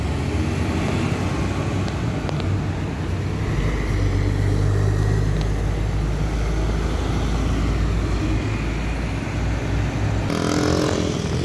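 A JRG sleeper bus passes through the Bundaran Lambaru roundabout at night, its engine a loud steady rumble under constant traffic and wind noise, with a rougher burst near the end.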